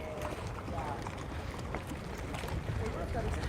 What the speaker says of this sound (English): I hope you can hear me because it's actually quite windy here.